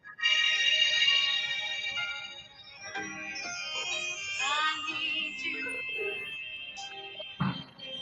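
An old roller skating song plays from a recording as thin, tinny melodic music with shifting pitched tones, fairly quiet and heard without talk over it.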